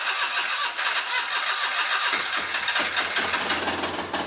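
A Daihatsu Midget engine cranks with a rapid whirring starter and then catches into a rough, loud running idle, heard up close without voices.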